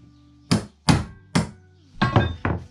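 Six sharp hammer blows strike a bent metal part on an old Honda 600 motorcycle, three evenly spaced then a quicker cluster of three, loud and close with no talk.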